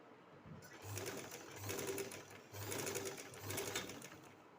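A sewing machine stitches a neck strip onto a kurti in rhythmic bursts, four short runs separated by brief pauses, moderately close and fairly quiet.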